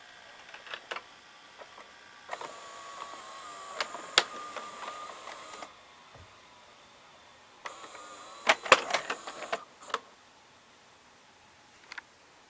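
A VCR tape mechanism with a cam gear in a Philips Magnavox VRA670 or Daewoo DV-F28N, running quietly with soft whirring stretches, scattered clicks and small mechanical ticks, close by with no talk.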